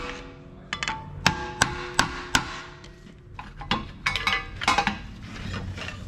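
Metal tapping on a stuck drum brake shoe to free the rotor, a series of sharp clanking hits in irregular rhythm, close and ringing, with scraping handling noise between strikes.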